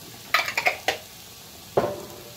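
Vegetables and garlic go into a hot pan for minestrone, bringing a few sharp clattering scrapes and clinks of a utensil against the pan over a soft steady sizzle, close and quiet.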